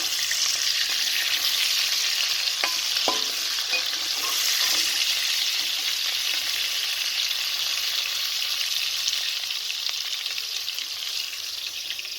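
Prawns fry in hot oil in a pan, a steady close sizzle and crackle running throughout, with a few light clicks of a spatula or stirring partway through.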